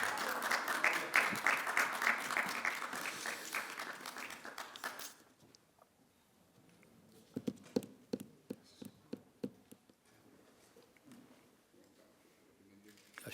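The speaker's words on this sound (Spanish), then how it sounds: "Saludamos con un fuerte aplauso" An audience at a formal ceremony breaks into loud, dense applause that fades after about five seconds, followed by scattered footsteps and quieter room sounds.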